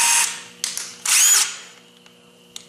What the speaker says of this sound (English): Now, this is a brushless DeWalt impact.